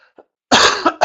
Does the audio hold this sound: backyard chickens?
no